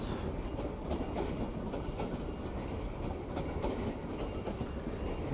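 Dhaka–Mohanganj passenger train rolling by at close range, heavy continuous rumble with repeated clickety-clack of wheels over rail joints and occasional metallic squeal, no talking.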